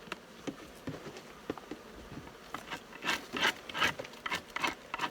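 Honeybees buzz inside a large hive opened for its first inspection after winter, a close, rising and falling drone mixed with wooden frames rubbing and scraping.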